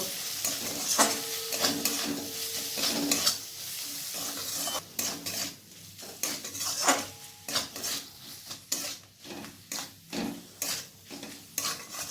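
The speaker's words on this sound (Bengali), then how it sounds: "এরপর আমি মশলাগুলোকে ভালোভাবে কষিয়ে নেব।" Ground coriander, cumin and black pepper fry in a pan for mutton keema while a metal spoon scrapes and clinks against it in steady, repeated strokes over a continuous sizzle.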